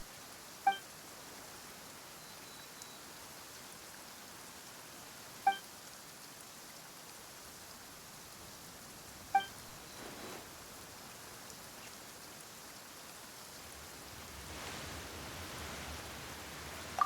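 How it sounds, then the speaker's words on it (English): Steady rain falling in a video game scene, a soft continuous hiss throughout, with a few brief faint clicks and a slight swell near the end. "Why is it raining all of a sudden?"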